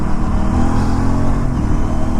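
Aprilia RS 457 motorcycle with quickshifter and auto blipper, engine droning steadily and loud at close range as it rides, with no voices.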